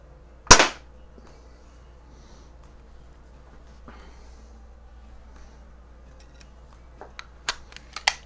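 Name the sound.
Daisy BB gun shooting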